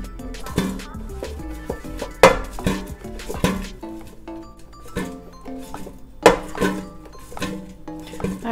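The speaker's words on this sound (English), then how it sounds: "I just want to give the air fryer a nice shake" Air fryer basket of potatoes being shaken and tossed, giving a rattling clatter of metal with two sharp loud clanks standing out among softer rolling knocks, close up, with no talking.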